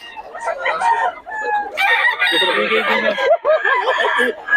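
A white leghorn rooster crows loudly nearby, with clucking fowl and other birds around, plus faint voices in the background.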